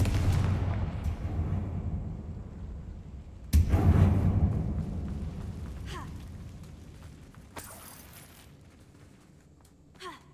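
A Confringo blasting curse from the video game Hogwarts Legacy goes off as a sharp explosive burst, followed by further booming blasts and crackling debris at irregular intervals over about ten seconds.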